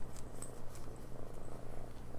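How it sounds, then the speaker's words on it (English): A pet cat purrs loudly and close by, a continuous rhythmic rumbling throb with soft pulsing, heard alone without talk. "that was a loud purr"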